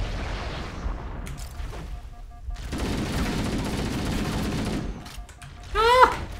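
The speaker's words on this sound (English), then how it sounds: "Yep, it's a needle gun." Covenant needle gun firing in Halo: Combat Evolved, a dense burst of rapid crackling shots across most of the clip with a short gap, ending in a rising whine, with game noise throughout.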